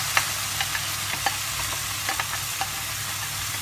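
Chicken with yogurt frying among onions and green chilies in a pan, a steady soft sizzle broken by light scraping clicks of a stirring spoon; fairly quiet and close, with no voices.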